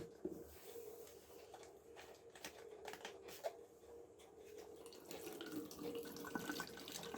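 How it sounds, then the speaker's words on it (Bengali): Water is poured from a tap-like stream into the reservoir of a Dr. Choice steam vaporizer for cold and cough, a steady close-up trickle and splash with small drips, with no talking. "দেখুন, প্রথমে আমি এর মধ্যে একটু জল ভরে নিচ্ছি।"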